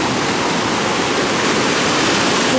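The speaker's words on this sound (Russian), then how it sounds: "как волны красиво разлетаются" Ocean waves crash on a beach in a loud, continuous wash of rushing surf, with no voices.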